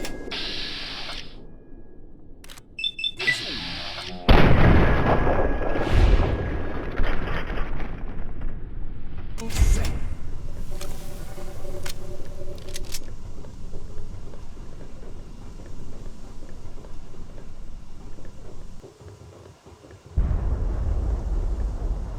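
Heavy weapons fire in Fallout 3 during Operation: Anchorage, with booming blasts and rumbling impacts over a dense, noisy battle soundscape, loud and continuous with sharp bursts.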